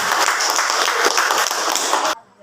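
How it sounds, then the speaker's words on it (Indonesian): Audience of adults at a community sharing session breaks into sustained, loud, dense applause that holds evenly and then stops abruptly, leaving a quiet room. "Tepuk tangan untuk kita semua."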